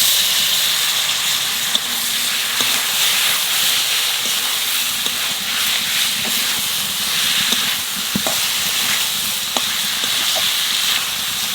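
Potatoes fry with masala in a pan, giving off a steady close sizzle and hiss with scattered small pops and clinks.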